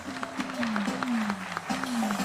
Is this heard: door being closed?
no